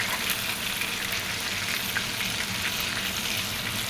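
Chaap, marinated meat pieces, frying in oil in a pan, giving a steady, dense sizzle with soft crackles throughout, close and even in level with no talk over it.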